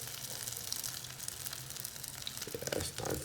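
Tuna patties fry in hot oil, a faint, steady sizzle and hiss heard from a short distance with a few louder crackles near the end, and no voices over it.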